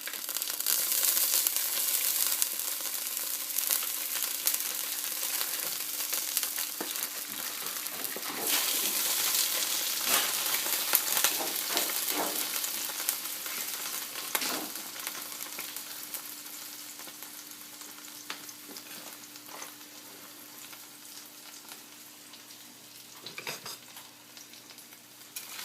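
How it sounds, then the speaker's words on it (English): Fish frying in a hot pan for seafood pesto spaghetti, a steady loud sizzle with occasional scraping and stirring noises, close and continuous, gradually easing slightly, with no talking. "now that the pan is all hot, I'm going to throw in the fish."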